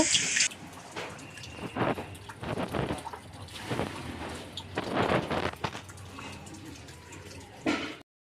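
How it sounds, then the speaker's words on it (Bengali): Water trickles slowly from a kitchen tap into a sink, a faint, uneven splashing and dribbling that carries on throughout, close and quiet. "রান্নাঘরে এসে কলে জলটা খুবই আস্তে পড়ছে দেখতে পাচ্ছ"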